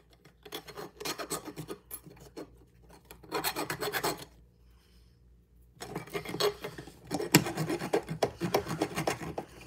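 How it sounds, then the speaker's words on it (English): A hand file rasps burrs off a metal part in loud, close bursts of harsh scraping strokes, with a short quiet pause midway before the rhythmic filing resumes. "let me file this a little bit"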